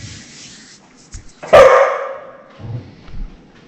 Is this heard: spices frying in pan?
no